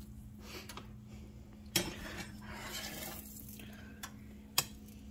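A whisk clinks and scrapes around a pot of soup, faint and intermittent, with a few sharper metallic taps against the rim in a quiet kitchen.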